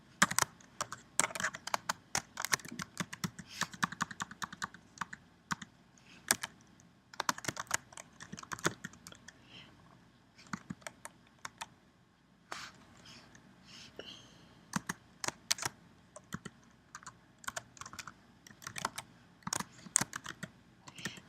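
Rapid bursts of keystrokes on a computer keyboard, close and crisp, with irregular clattering runs separated by short pauses and no voices.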